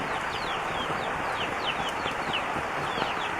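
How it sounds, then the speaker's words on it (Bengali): Native Bangladeshi chickens cluck in short, repeated calls on a rainy day, heard against a steady hiss of rainfall. "সামনে দেশি মুরগি।"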